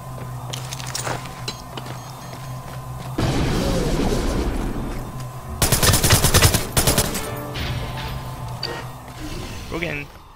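Splinter Cell Blacklist multiplayer gunfire with several bursts of automatic fire. The loudest, densest burst is in the middle and a few sharp shots come near the end. Voices talk over it throughout.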